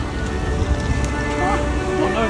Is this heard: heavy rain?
yes